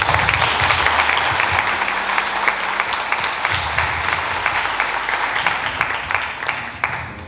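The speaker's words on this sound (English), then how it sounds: "so give yourselves a round of applause as well" Audience applause fills a high school senior scholarship awards ceremony, a dense steady roar of many hands clapping that holds evenly throughout and tapers slightly at the very end.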